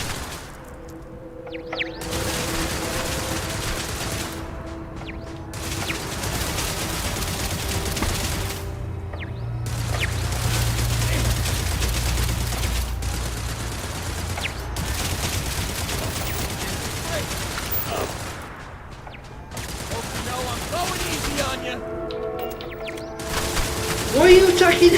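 Bursts of gunfire come and go in Starfield combat, with stretches of rapid shooting separated by brief pauses, heard alongside game sounds and people talking over roughly twenty-five seconds.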